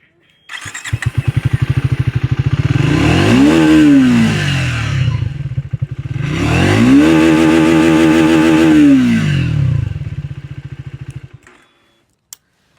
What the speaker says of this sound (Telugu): ఒకసారి ఎగ్జాస్ట్ నోట్ విందాం.